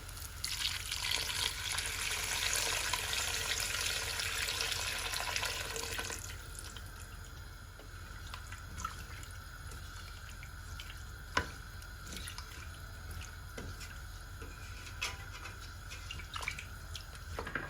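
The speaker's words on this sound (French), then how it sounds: "Et ensuite, je vais rajouter de l'eau chaude." Hot water, about a litre, pours into a pot of potatoes being cooked for a quick pressure-cooker dish, giving a steady splashing rush that eases into softer trickling and occasional drips.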